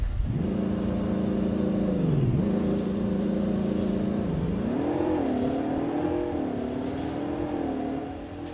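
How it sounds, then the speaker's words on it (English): A 2021 Ford F-150 pickup engine revs steadily at close range, its pitch climbing and dipping through several throttle blips over a constant low rumble. "So now I'm going to rev the truck up and show you guys how it sounds."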